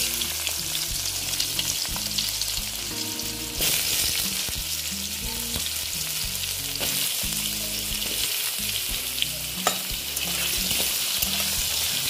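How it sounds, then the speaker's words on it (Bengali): Potatoes fry in oil with a loud, dense crackling sizzle and repeated stirring scrapes, running continuously over a low, steady tonal backing. "এখন আমি আলুগুলো ভেজে নিচ্ছি এই তেলেতেই"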